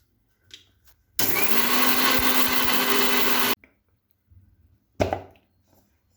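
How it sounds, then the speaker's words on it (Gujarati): An electric blender whirs loudly for about two seconds as it crushes a spoonful of grated dry coconut, then stops, followed by a few light knocks and taps of the jar in an otherwise quiet kitchen. "1 ટેબલસ્પૂન ટોપરાનું છીણ લઈશું। સૌ પ્રથમ આને આપણે ક્રશ કરી લઈશું।"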